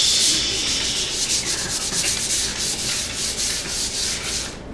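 Coarse 60-grit sandpaper scrubs steadily across cured resin, a close, continuous rasping hiss with quick repeated strokes and no voices.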